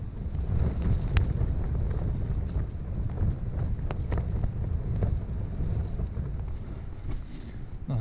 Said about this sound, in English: Probably hear the winds there.